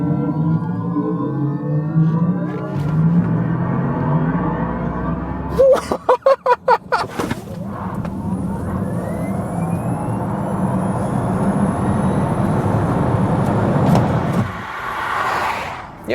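An electric car accelerates from inside the cabin, with a rising motor whine sweeping upward under steady road rumble, interrupted by a burst of rapid clicks and a brief drop in level before the whine climbs again.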